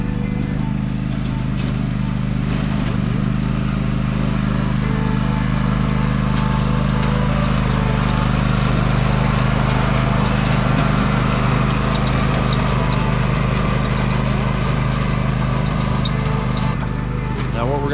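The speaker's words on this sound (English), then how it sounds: "we're going to go over this twice with the tiller" A tiller engine runs steadily while breaking up soil for a food plot in northern Michigan. A loud, continuous small-engine drone fills the whole span, with occasional voices barely audible beneath it.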